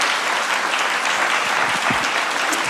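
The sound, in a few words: audience applause for panelists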